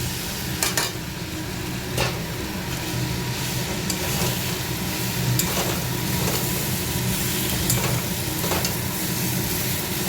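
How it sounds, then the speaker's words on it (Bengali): Soybean chunks and potato fry in hot spiced oil in a pan, giving a steady sizzle throughout, with a few scraping stirs of a spatula at intervals. "এবার সয়াবিন আর আলুটা দিয়ে দেবো, দিয়ে আর একটু ভেজে নেবো ভালো করে"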